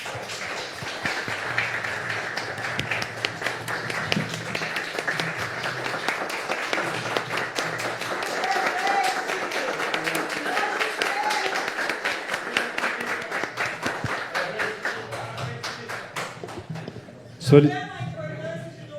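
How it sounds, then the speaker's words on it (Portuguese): A round of applause fills a municipal council chamber during a session honouring a local figure, many hands clapping steadily for a long stretch, then fading into a brief thump and a voice at the end. "nós pudéssemos bater uma salva de palmas para ele."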